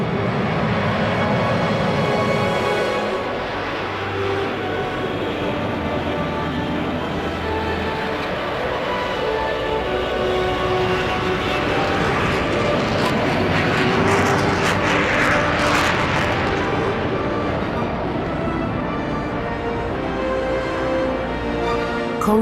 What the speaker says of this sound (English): the noise when she actually got onto the runway, opened the throttles, full power with reheat.